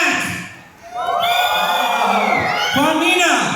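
An event audience cheers, whoops and shouts for Mac, a loud crowd roar that swells after a short quiet start and holds steady.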